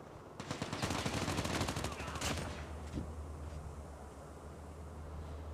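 Rapid bursts of automatic gunfire in the mobile shooter Call of Duty Mobile, a dense loud volley in the first two seconds followed by a few scattered shots fading into background game ambience.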